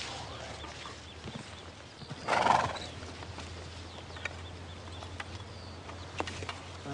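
A lame horse gives a brief whinny midway through a quiet outdoor scene, with faint scattered hoof clops and soft ambient noise around it.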